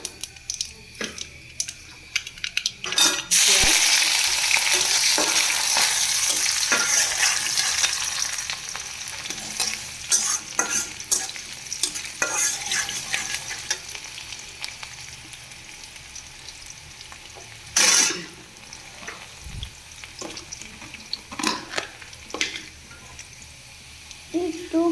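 Whole spices sizzle loudly as they are dropped into hot oil in a pan and stirred, with bursts of crackling frying, scraping stirs and quieter simmering stretches between them.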